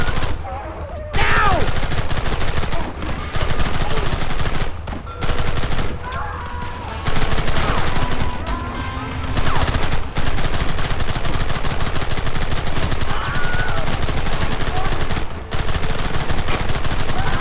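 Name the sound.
gunfire in Red Dead Redemption video game cutscene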